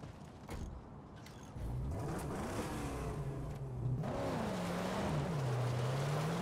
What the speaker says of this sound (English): like the dual exhaust, the straight pipes